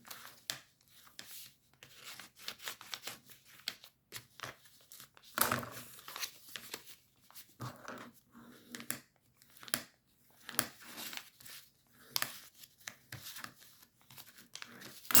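A paper card is creased and folded by hand in quiet short bursts of crinkling and rustling, with one sharper crackle partway through.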